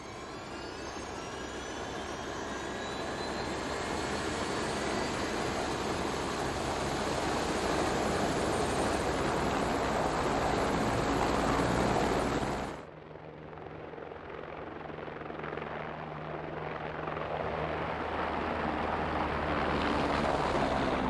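A US Marine Corps helicopter in the game Squad flies with a loud, steady rotor and engine drone that swells slightly, then drops abruptly to a duller, muffled tone partway through.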